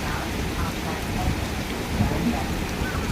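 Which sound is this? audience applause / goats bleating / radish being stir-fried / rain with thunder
rain with thunder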